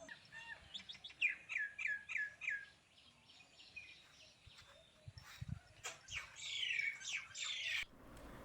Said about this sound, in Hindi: खाली चिड़ियों की चहचहाहट सुनाई दे रही है